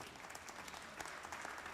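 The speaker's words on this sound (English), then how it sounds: "Y'all can give them a louder round of applause, please." An audience at a community gathering applauds students: steady, fairly faint clapping from a crowd that keeps going, with no pauses and no one speaking over it.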